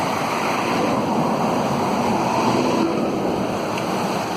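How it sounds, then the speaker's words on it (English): Water rushing steadily along Channel Creek, a continuous broadband flow with no talk, fairly loud and unbroken throughout. "This is Channel Creek, which I drove by."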